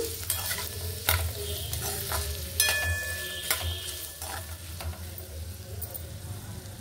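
Amla (Indian gooseberry) pieces frying in a pan with steady sizzling, while a spoon stirs and scrapes them in repeated close strokes.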